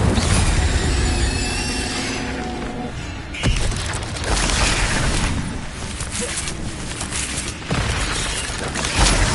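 An Incendio fire spell is cast during combat in Hogwarts Legacy, a loud roaring whoosh with crackling bursts and a few sharp impacts amid a dense, continuous battle din.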